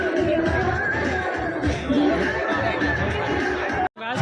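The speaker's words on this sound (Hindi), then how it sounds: "काफ़ी सारा स्टॉल पे देख सकते हो कस्टमर का कितना भीड़ लग चुका" A dense crowd of customers murmurs around handicraft stalls at an outdoor fair on a large open ground, overlapping chatter and occasional laughter filling the space continuously, with a brief dropout near the end.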